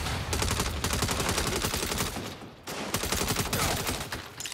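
Dense, rapid gunfire in the Saints Row video game, sustained volleys of shots almost without pause, loud and close throughout.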